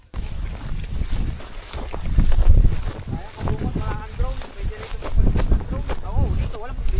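Gusty wind buffets the microphone on the summit of Mt. Gulugod Baboy, rising and falling in loud rumbling bursts while people talk nearby.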